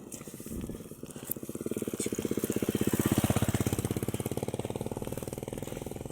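A motorcycle engine on a forested road runs with a steady, pulsing putter that swells louder toward the middle and then holds, heard at moderate distance with no one talking.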